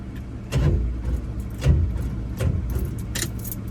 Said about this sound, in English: I can hear the starter spinning